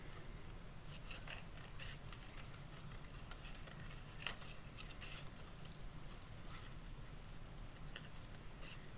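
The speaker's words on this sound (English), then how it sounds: "I'm now going to cut out my other antler." Scissors cut out a paper reindeer antler in quiet, scattered snips, close but faint, with no talking.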